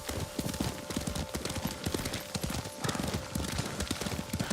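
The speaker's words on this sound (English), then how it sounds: "Lord Sakai taught me to ride a horse" Rapid, rhythmic horse hoofbeats clatter at a steady trot in a video game, close and fairly loud, with no voices over them.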